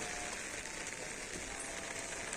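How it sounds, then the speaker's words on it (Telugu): Steady rain falling outdoors, a dense, even hiss with soft patter of drops on surfaces, continuous and moderately loud throughout with no voices. "వాన చూడండి, వానల"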